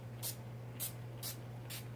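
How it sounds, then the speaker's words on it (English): Four short, bright hissing spritzes of makeup finishing spray, evenly spaced about half a second apart, sound close and fairly quiet over a low steady hum. "Just give yourself a spritz of finishing spray."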